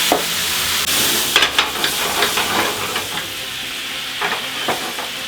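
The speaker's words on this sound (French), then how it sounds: "On flambe." Rum being flambéed in a hot pan, with a steady sizzling hiss and a few crackling bursts of flame close by, continuous throughout without talk.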